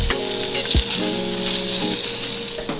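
Bacon fries in a small skillet over medium-high heat, a steady close sizzle and crackle running throughout with a faint tonal hum beneath and no talking.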